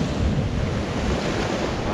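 Waves surge and wash onto a UK beach at high tide in a continuous close roar, with gusty wind buffeting the microphone and no voices.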